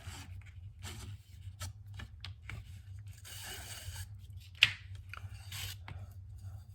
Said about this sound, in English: First thing I'm going to do is cut the pump cord